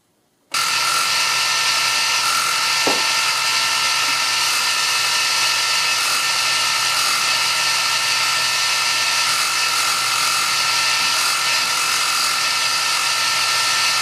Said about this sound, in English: Should be as simple as drilling some mounting holes